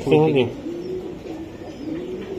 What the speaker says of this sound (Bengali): এটা রেস করা কবুতর